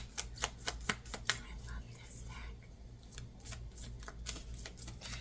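A deck of cards is shuffled up close, a series of sharp riffling flutters and snaps in quick bursts, with softer rustling and handling between them.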